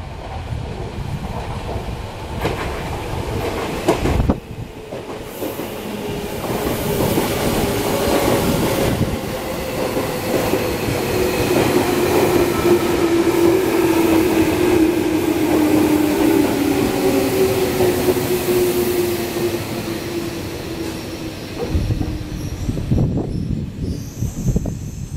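A seven-car Tobu Skytree Line local train rumbles into Nishiarai Station at morning rush hour and slows to a stop, wheels squealing with a long descending screech and steady rolling noise, loud and close throughout.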